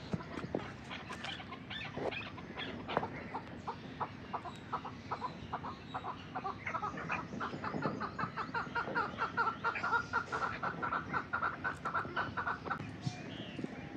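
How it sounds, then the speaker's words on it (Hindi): A Chinese rooster at a zoo in Multan, Pakistan clucks in rapid repeated bursts for the whole stretch, moderately close, with some other animal calls mixed in. "ये है चीनी मुर्गा।"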